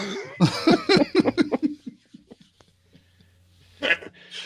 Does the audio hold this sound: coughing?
yes